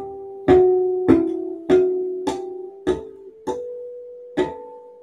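Bell-like harmonics on a U-Bass with round-wound strings sound as seven evenly spaced plucked tones, each sustaining and ringing briefly, played close and alone.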